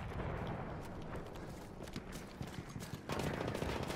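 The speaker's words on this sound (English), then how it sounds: "There's a machine gun." Machine gun in the World War I shooter Battlefield 1 rattling in bursts amid distant battle noise, fairly faint, with a louder crack of gunfire near the end.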